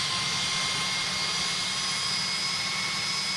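A Learjet 45 jet engine roars steadily in Tower Simulator 3 at a Cleveland airport, a constant loud whine over a low rumble with no talk.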